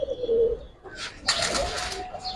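A pigeon, a Giribaz-type fancy breed, gives a close, soft coo that swells into a louder, breathy rolling call, clear and with no talking over it.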